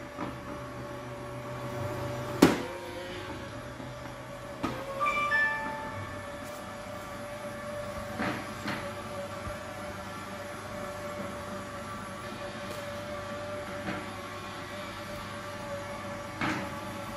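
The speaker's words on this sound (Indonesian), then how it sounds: "Karena vacuum cleaner ini tidak dapat diprogram." A budget automatic robot vacuum cleaner moves at random across the floor, with a steady, quiet motor hum and a few sharp knocks and bumps as it runs into objects.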